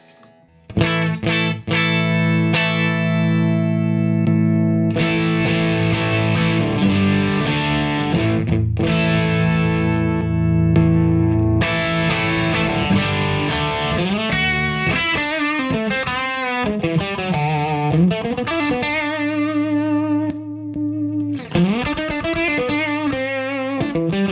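An electric guitar plays through a compressor pedal, sustained, heavily processed notes and chords alone, with a thick, even, squashed tone and some wavering bends.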